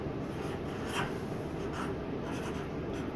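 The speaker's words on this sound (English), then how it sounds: "So I think I'm going to write the word brave" A pen or marker writes a word on a paper crown, a steady soft scratching and rubbing up close, continuous for about three seconds with no talking.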